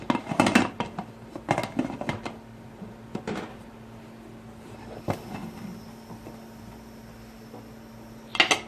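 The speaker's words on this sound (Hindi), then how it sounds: "मैं कुकर का वेट लगा रही हूँ।" A pressure cooker's metal weight clinks and clatters several times close by as it knocks into place, with a quiet steady hum behind.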